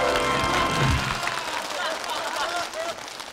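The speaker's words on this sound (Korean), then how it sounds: "다시 한번 박수 보내드립니다" A studio audience at a KBS family game show breaks into loud, dense clapping that carries steadily for several seconds, with a host's voice speaking over it.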